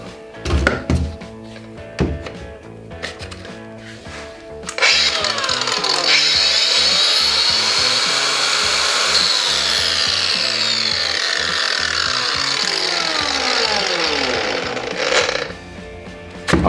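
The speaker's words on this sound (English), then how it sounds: "Let's try on the angle grinder." A Makita 18V angle grinder, adapted to run on 230V mains, spins up with a rising whine, runs as a loud sustained high-pitched grind for about ten seconds, then winds down, after scattered knocks and handling clatter.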